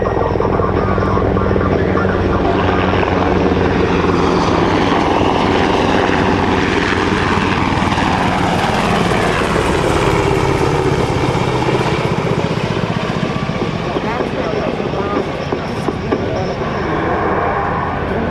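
Rhode Island Army National Guard helicopters flying past at an airshow open house, a loud, continuous rotor and turbine roar with steady chopping throb that swells and fades slightly as they pass, filling the whole stretch.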